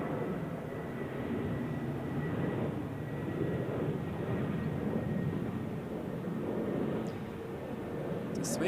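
An airliner at Zurich Airport gives a distant, steady jet roar that rises and falls slightly as it moves, with low rumble and hiss continuing throughout.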